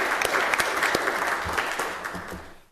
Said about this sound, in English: So let's give Courtney a round of applause